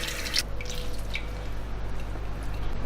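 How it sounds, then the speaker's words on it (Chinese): Salted watermelon rind being rinsed under running water from a tap, a steady soft trickle and splash throughout with a brief louder burst of water near the start. "我们来给它清洗一下，洗掉西瓜里面的盐分"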